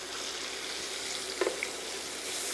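A pork chop sizzles in a pan while being basted with butter flavored by garlic and thyme. A steady, close frying hiss runs throughout, with a short spatter of spoon-basting midway.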